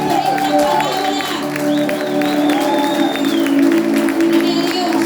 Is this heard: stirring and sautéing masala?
no